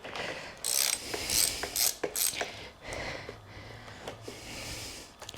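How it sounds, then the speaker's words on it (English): A ratchet handle clicks in quick rhythmic bursts while loosening a bolt on a Crossfire CF1 pit bike, the close, sharp pawl ticking stopping and starting over several strokes. "I've just got a ratchet handle."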